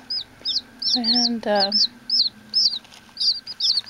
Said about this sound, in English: they're the buff Orpingtons, Orpington hens, little chicks.